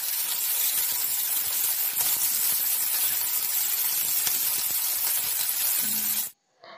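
Curry leaves and spices crackle and sizzle in hot oil, a steady dense hiss close by that runs on without pause and cuts off abruptly near the end.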